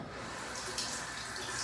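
Water runs from a tap to wet a toothbrush, a steady close hiss of flowing water that continues without a break.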